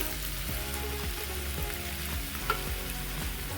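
Arbi (taro root) with masala frying in a pan, a close, steady sizzle with rhythmic stirring scrapes about every half second, no voice.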